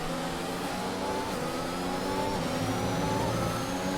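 Formula 1 car engine from an F1 racing game at the Hungarian Grand Prix, a steady high-revving drone with rising pitch as a car closes in to lap a slower one, continuous and loud throughout.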